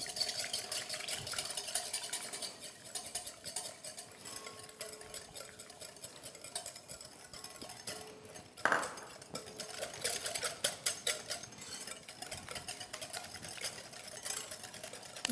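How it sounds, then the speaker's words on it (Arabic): Eggs being whisked in a bowl before sugar goes in, for chocolate éclairs: a steady, fine scraping and rattling churn that runs on throughout, with a brief louder knock about midway. "نخلطو البيض قبل ما نضيفو له السكر"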